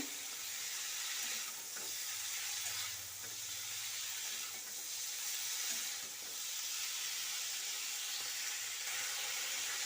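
Marinated prawns fry in a hot pan while being stirred for a Bengali chorchori. A steady, close sizzle with a soft scraping rhythm continues throughout, swelling slightly every couple of seconds.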